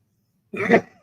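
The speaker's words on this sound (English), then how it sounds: "you're coughing, please take some rest if needed" A single short, rough cough, close and alone against silence.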